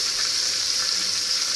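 Paneer shallow-frying in hot ghee gives a steady, close, dense sizzle that holds evenly throughout with no talking.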